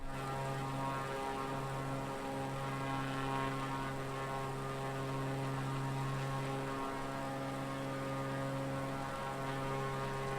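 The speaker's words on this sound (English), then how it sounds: "it's throwing the plane around a little bit" A propeller plane drones steadily in a flight simulator game while flying in windy Scotland and UK weather, with a constant tonal engine hum that stays level throughout and no talking.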